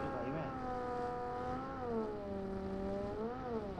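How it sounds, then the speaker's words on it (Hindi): Vehicle engine in the BGMI mobile battle royale game, a steady droning hum whose pitch gently rises and falls as it drives, heard under players talking over voice chat. "भाई गाड़ी की आवाज।"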